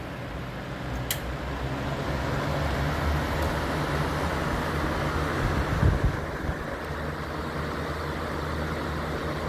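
A vintage Montvale Air King 16-inch box fan runs on high speed, making a steady broadband whoosh of moving air and motor hum that stays constant and close, with a faint click early on.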